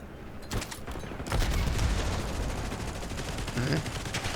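A PP-919 submachine gun fires in the Black Ops 6 video game, dense rapid automatic fire that runs loud and nearly continuous, swelling into a heavier stretch midway.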